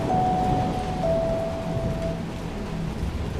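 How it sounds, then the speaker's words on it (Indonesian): Heavy rain falling at night around a village, a steady broadband wash of rainfall with a faint tonal whine early on. "suara hujan yang deras menciptakan atmosfer mencekam di sekitar desa"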